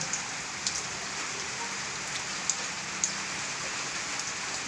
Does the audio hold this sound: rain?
yes